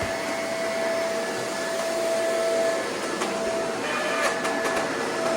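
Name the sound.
Shark Lift-away vacuum front roller grinding on carpet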